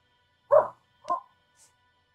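A dog gives two short, sharp barks close by, followed by a faint high yip, with quiet between them.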